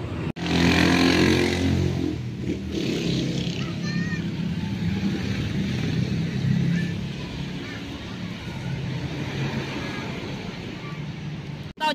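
A motorcycle engine running steadily for the whole stretch, a broad rumbling drone that stays loud and even, with people talking at times over it.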